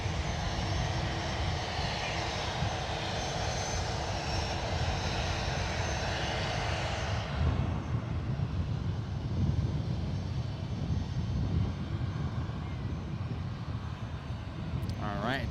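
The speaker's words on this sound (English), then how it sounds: "Departing now, we got a United Airlines Boeing 737-900ER." United Airlines Boeing 737-900ER departing San Francisco International Airport, a loud continuous jet engine roar that shifts in tone partway through as the aircraft climbs away.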